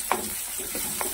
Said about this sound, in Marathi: ह्या तेलातच आपल्याला अद्रक लसूणची पेस्ट घालायची आहे, जेणेकरून मस्त तळली जाते.